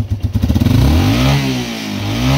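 A Yamaha Wolverine 350 ATV engine fitted with an aftermarket carburetor starts with a few sputtering pulses, then revs up loud and close into a sustained, climbing roar, with no one speaking.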